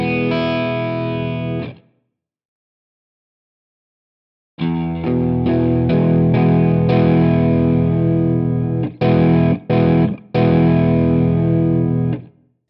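The Shreddage 3 virtual guitar instrument strums distorted chord voicings, one sustained chord that cuts off, then after a silence a run of rapid strummed chords with a few abrupt stops, loud and close with no talk.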